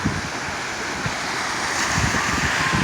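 Ocean surf rolls in at Dana Point Harbor, a constant broad wash of breaking waves mixed with gusty wind buffeting the microphone, with no voices.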